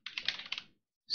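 A burst of quick keystrokes on a computer keyboard while a terminal command is typed, then a short pause and one more key press.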